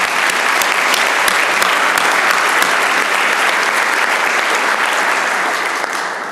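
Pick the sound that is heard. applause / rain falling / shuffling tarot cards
applause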